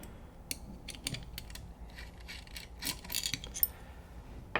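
Body screws are backed out of a DLX Luxe Ice paintball gun with small, close metallic clicks and ticks in an irregular run, the tool scraping and tapping against the frame.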